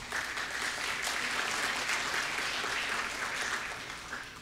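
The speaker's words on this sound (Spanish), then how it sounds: "Un aplauso, por favor." An audience at a conference on water treatment challenges claps in sustained, even applause that stays dense and fairly loud throughout before tapering slightly at the end.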